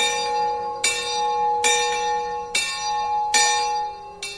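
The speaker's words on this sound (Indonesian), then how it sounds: "Suara lonceng gereja berbunyi pertanda udah jam 6 sore." A church bell rings out in slow, evenly spaced strokes, each tone ringing on and overlapping the next.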